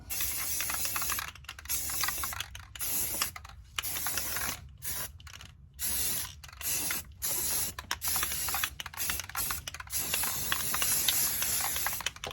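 Factory wheels of a 2001 Lexus GS300 being spray painted, with repeated close aerosol bursts of hissing spray separated by short pauses and the faint rattle of the can, and no talking.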